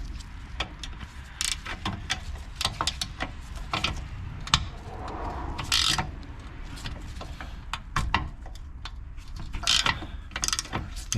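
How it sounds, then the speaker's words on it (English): Ratcheting wrench clicking as it removes a sway bar link nut on a 2011 Mazda 6 rear suspension, with close, irregular bursts of sharp mechanical clicks and taps at a moderate level. "I will be able to remove the nut and then my ratcheting wrench."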